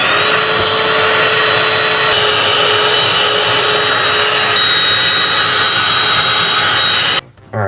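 A continuous loud rushing blast of air dusting out the inside of a Mac computer, steady for several seconds before cutting off abruptly near the end.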